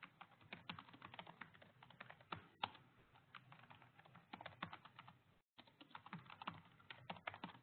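Continuous close typing on a computer keyboard, a steady patter of key clicks with one brief pause.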